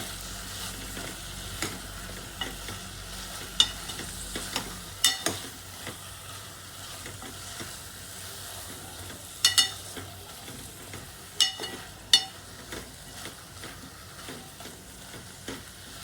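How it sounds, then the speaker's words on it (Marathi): Brinjal and potato curry coated in masala is stirred in a pan over a low, continuous sizzle, with scattered sharp scrapes and clicks from the spoon against the metal. "आणि आपण याला मिक्स करून घेऊया व्यवस्थित।"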